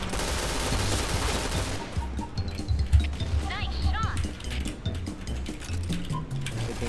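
Gunfire in the mobile battle royale game PUBG Mobile, rapid bursts of shots cracking over a busy game soundscape, moderately loud with some swooshing effects mixed in.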